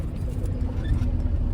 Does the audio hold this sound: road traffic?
yes